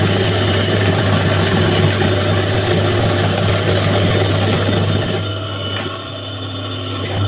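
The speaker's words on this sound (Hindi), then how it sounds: "अब मैं करूँगी बैंड की स्टिचिंग।" A sewing machine runs steadily while stitching the band of a men's kameez shirt, a continuous close whirring hum with a low motor drone that eases slightly near the end.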